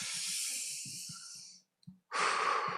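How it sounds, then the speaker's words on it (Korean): A church congregation takes a deep breath together during a Sunday service, a long broad breathy inhale and exhale that ends in a brief pause, then a second loud rush of breath, with no talking. "우리 다 함께 심호흡 한번 크게 하고 말씀을 나누도록 하겠습니다."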